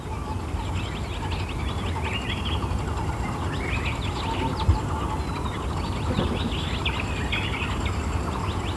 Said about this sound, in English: This tree pie, perched here on a maliana tree, is a common bird in the woodlands.